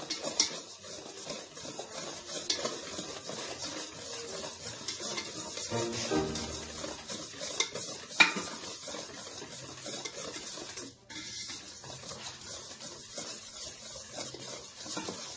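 Flour being stirred into olive oil cookie dough in a bowl, a steady scraping and rubbing of spoon against the dish that runs throughout, with occasional light clinks of utensils, close and alone without talk.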